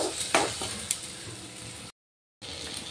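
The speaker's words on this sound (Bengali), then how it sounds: "এবার দিয়ে দিচ্ছি ভেজে রাখা আলুগুলো, দিয়ে ভালো করে আবারও মশলার সাথে কষিয়ে নেব।" Fried potatoes and tomato being stir-fried with spices in a pan: a low, continuous sizzle with a few clinks and scrapes of stirring, broken by a brief moment of silence.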